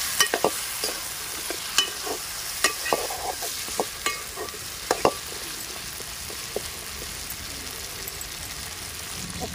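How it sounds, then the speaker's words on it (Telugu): Peeled raw taro pieces are stirred in a pan of hot oil, making a continuous sizzle broken by sharp scraping clicks of the spoon at an irregular rhythm, close up and without voices. "ఒకసారి కలుపుకుందాం చామగడ్డ"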